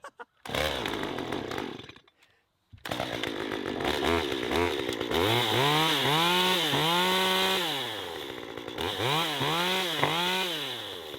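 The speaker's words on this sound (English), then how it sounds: "We're gonna make 3 cuts in a row with each saw, and we're gonna time them." A budget top-handle chainsaw bites through wood in a timed cutting test, its engine briefly cutting out, then revving hard and loud at close range, pitch dipping and rising as the chain loads up through repeated cuts.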